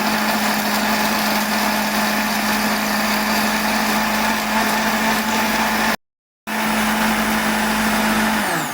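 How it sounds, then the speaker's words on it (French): An electric blender grinds ingredients with a little added water for a smoked machoiron fish soup, running as a steady, loud whirring drone that cuts out briefly and then resumes. "Je rajoute un peu d'eau juste pour aider le mixeur. Et je vais broyer le tout."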